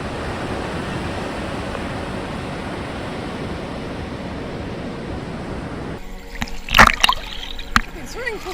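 Ocean waves break around a swimmer in shallow surf at Cabanas de Tavira in the Algarve: a steady, close roar of churning water, then sharp splashes and sloshing near the end.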